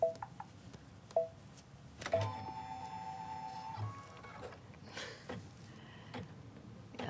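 A sewing machine stitches out a scallop quilt design in a quick mechanical run, its steady whir and ticking carrying at moderate volume amid a few sharp clicks.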